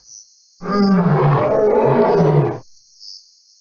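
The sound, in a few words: lion roaring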